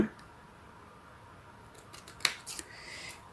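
Scissors snip through card paper being trimmed for a simple folded greeting card, a few short crisp cuts toward the end after a quiet stretch.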